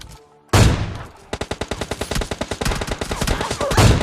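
Gunfire in the mobile shooter PUBG Mobile Lite: a loud opening blast, then a rapid string of close automatic shots with a few more reports trailing off at the end.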